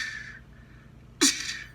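A voice imitating a snare drum with the mouth: one sharp, breathy hiss-crack burst up close that fades quickly, following a soft airy hiss.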